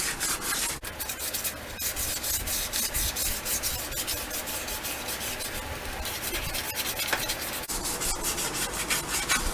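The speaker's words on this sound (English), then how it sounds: "Now we're going to take some of our sandpaper and start scuffing it up a little bit." Sandpaper scuffs over a stock Camaro wheel rim being prepped for paint, a steady run of close rasping strokes with brief sharper scrapes throughout.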